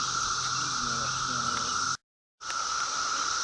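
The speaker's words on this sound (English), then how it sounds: "You can hear those cicadas in the background." A steady, shrill insect buzz drones continuously outdoors, cutting out briefly for a moment before resuming, with faint low murmuring beneath.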